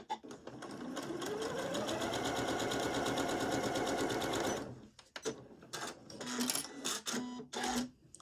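A sewing machine stitches fabric along a guide while sewing the neck facing of a faux wrap top. A fast, even mechanical whir runs close for about four seconds, then stops and gives way to clicks and handling noises.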